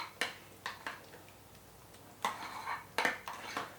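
Cinnamon being stirred into chocolate pumpkin pie filling in a bowl: several soft, close spoon clinks and scrapes in uneven bursts against a quiet room, with no talking.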